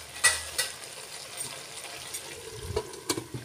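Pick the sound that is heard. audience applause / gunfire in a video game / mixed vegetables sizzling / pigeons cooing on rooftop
mixed vegetables sizzling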